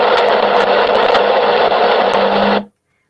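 A seismic vibrator plate running a frequency sweep, a dense buzzing mechanical roar that holds steady and loud for under three seconds and then cuts off abruptly into silence.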